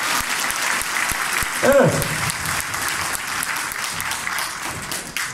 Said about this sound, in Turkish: Alkışlayan elleriniz dert görmesin.